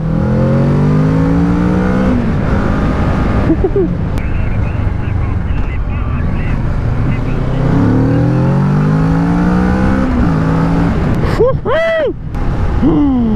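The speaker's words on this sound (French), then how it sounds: "Je vais accélérer" A motorcycle on an A2 licence riding lesson in traffic, its engine droning and rising in pitch through several accelerations, heavy wind buffeting the microphone and a rider talking over it.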